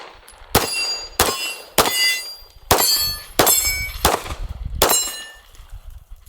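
A suppressed rifle fires six spaced shots at steel targets on the right, each crack followed by a bright ringing clang from the struck plate, loud and close with no talk.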